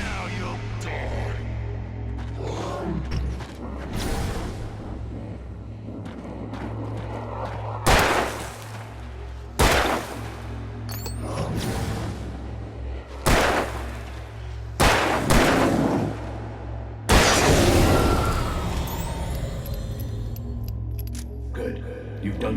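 Several loud sharp gunshots spaced a few seconds apart in Alan Wake Remastered, each a sudden crack with a decaying tail, over a low droning score.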